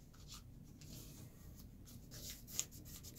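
Paper being creased flat while folding an origami tulip, a quiet dry rubbing and scraping over several seconds with one short sharp crackle near the end, no voices.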